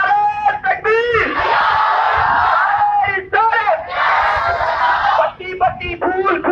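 At a Milad celebration in Balki, Bidar, a large crowd roars the Nara-e-Takbir slogan in loud, sustained chants. A lead voice calls out and the mass of voices answers in repeated waves.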